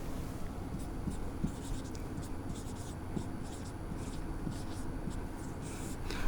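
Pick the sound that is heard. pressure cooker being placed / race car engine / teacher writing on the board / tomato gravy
teacher writing on the board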